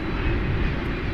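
An airliner lands at night at DFW Airport, a steady loud roar of aircraft engines with broad low rumble filling the short stretch, no voices over it.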